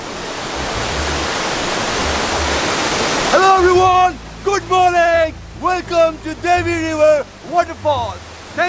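A waterfall in the Singalila forest roars as dense, steady rushing water for about three seconds, then someone speaks in the foreground while the falls go quiet beneath his voice.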